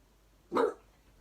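A single dog bark, close and fairly loud, rings out once against a quiet room and then fades to silence.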